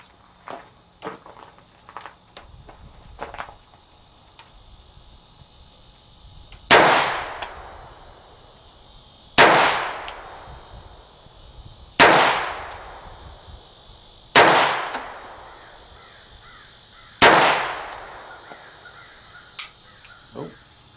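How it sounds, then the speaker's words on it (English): Five loud, sharp gunshots at 7 yards during a highway patrol firearms qualifier, spaced about two to three seconds apart, each with a ringing decay, preceded by light clicks and handling noise. "here we go for 7 yards, 10 more shots."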